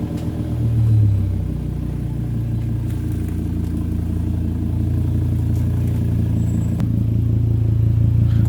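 Volvo S60 with IPD rear toe arms and adjusted ride height being lowered and driven off blocks, a steady low engine rumble with faint mechanical clatter running throughout, close and continuous.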